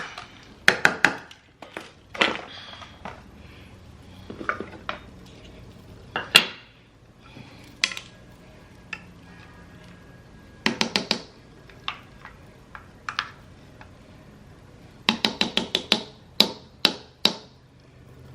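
A utensil mixing bread pudding with butter in a bowl, giving sharp, irregular clinks and scrapes in scattered bursts, some clustered quickly together, with quiet gaps between.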